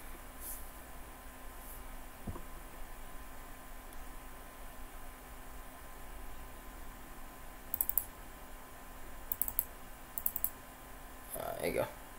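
Computer mouse clicks while issuing unit orders in a strategy game: a few short crisp clicks in small clusters, faint over steady low background hiss.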